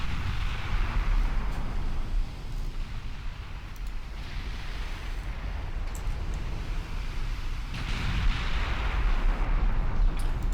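Naval guns firing in the Ultimate Admiral Dreadnoughts game, enemy ships carrying 15-inch guns: deep rolling booms and rumbling blasts recur over a steady low roar, several heavy shots spread across the stretch, with no talking.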